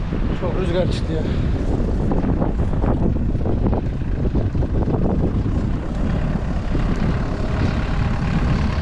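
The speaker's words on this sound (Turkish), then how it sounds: "Çok rüzgar çıktı ya" Strong wind buffets the microphone in a constant low roar, with people talking underneath throughout, outdoors in an orchard while spreading dry fertilizer.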